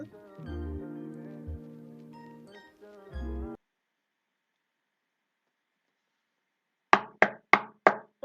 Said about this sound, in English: Was that a knock at my door?